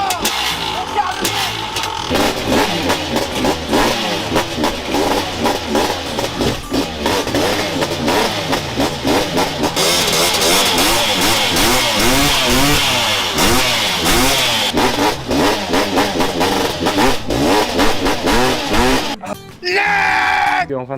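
A Peugeot 103 moped engine revs loudly and continuously for about twenty seconds, its pitch rising and falling through repeated throttle blips, then it cuts out abruptly near the end.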